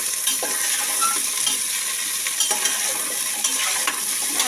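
Tomatoes sautéing in a pan for potato biryani, with a soft steady sizzle and repeated close scraping and stirring taps.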